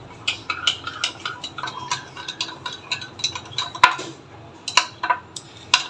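A spoon stirring sugar and milk in a pan as the sugar melts, giving irregular light clinks and scrapes against the metal, close and fairly clear with no voice.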